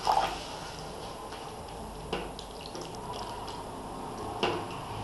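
Water poured into a pan of cooking tomato mixture with peanut and sesame, giving soft dripping and liquid splashes with a few sharper spatters against a steady low hiss.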